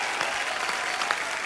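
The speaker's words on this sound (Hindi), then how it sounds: "जोरदार तालियां शबीना जी के लिए" Studio audience applause on a Hindi TV comedy talk show, steady dense clapping throughout the short stretch, close and fairly loud with no voices over it.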